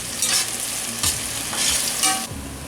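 Two chopped medium onions frying in hot oil for bhuna chicken, stirred in short scraping sweeps that rise and fall over a loud, continuous sizzle, with no voices.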